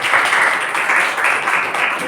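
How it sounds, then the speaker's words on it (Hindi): Loud, sustained applause from a church congregation, dense steady clapping filling the room without a break. "आप जो है परमेश्वर के लिए सच में एक बार जोरदार तालियां बजाएंगे"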